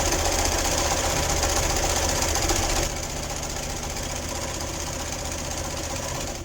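Sewing machine stitching a seam on a spa headband, a continuous fast mechanical whir and rattle, loud and close, easing slightly in pitch midway.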